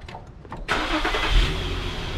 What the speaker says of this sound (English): I'm going to start up the vehicle.